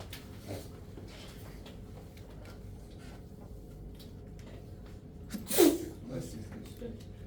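A single sharp sneeze bursts out in a classroom, brief and fairly close, over a quiet room.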